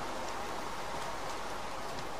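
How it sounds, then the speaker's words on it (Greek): Steady rainfall in Minecraft, a dense even hiss of falling rain with no breaks, moderately loud and alone. "Ρε, η βροχή είναι σκατά."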